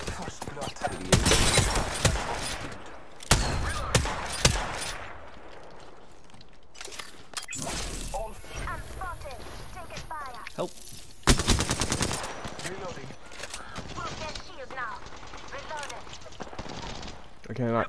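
Bursts of automatic gunfire from a firefight in the battle royale game Apex Legends, with loud rattling volleys near 1, 3, 7 and 11 seconds, quieter shots between, and game voices talking throughout.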